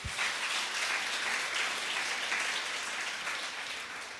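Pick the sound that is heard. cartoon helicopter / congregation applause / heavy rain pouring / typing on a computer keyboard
congregation applause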